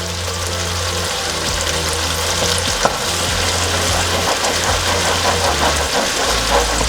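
Ginger garlic paste frying in hot oil in a pan for a pomfret fish curry, a steady broadband sizzle running throughout with a few scraping stirs and a faint low hum underneath, no voices.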